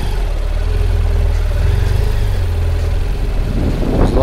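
A motorcycle engine at low speed in a building's parking garage, a close, steady low rumble with a rougher burst near the end, echoing faintly in the enclosed space with no speech.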